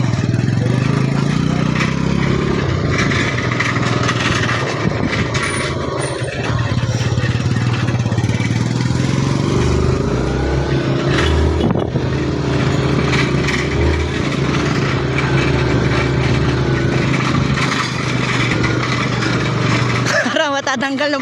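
A motorcycle engine runs steadily and loudly throughout on a trip home after finishing work on a hut, a constant low rumble with busy broadband noise on top and no pauses.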